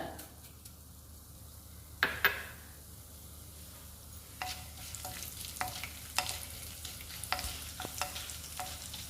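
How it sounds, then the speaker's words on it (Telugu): Chana dal, coriander seeds and cumin fry in a little hot oil, a faint low sizzle broken by sharp, scattered spatula scrapes and taps against the pan, close by and with no voices. "1 మినిట్ వేయించుకోవాలి."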